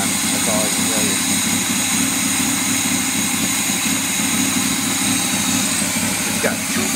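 An old 1987 fire truck with a 450 engine and tubular exhaust runs at a steady idle, a loud constant low rumble close by with no pauses.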